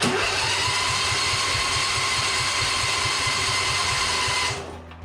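A Husqvarna Z246 zero-turn mower with electrical problems, its engine cranking loudly and steadily with a fast rhythmic chug for several seconds, then cutting off abruptly.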